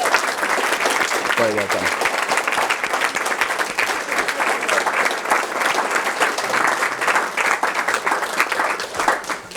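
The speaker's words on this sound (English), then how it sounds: "if you can stand up and also take a round of applause, please." Audience applause fills a school assembly as sports achievers stand up, steady dense clapping throughout, with a voice briefly speaking over it near the start.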